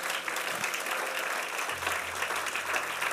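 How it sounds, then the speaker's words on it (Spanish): Church congregation applauds during a sermon, a dense, steady wash of many hands clapping that fills the room, with a faint low hum entering partway through. "Dale un aplauso al Señor."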